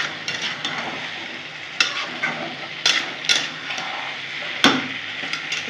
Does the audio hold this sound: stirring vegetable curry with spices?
yes